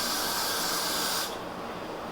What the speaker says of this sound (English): So again, I'm gonna start spraying.